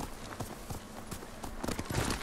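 Horse hooves clip-clop in Ghost of Tsushima, a steady run of soft thuds under faint game ambience, moderately close.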